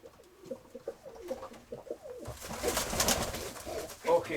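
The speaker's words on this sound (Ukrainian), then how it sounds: "голуби дікарі" Feral pigeons coo in soft, repeated throaty calls, close by, with a rustling burst of noise partway through.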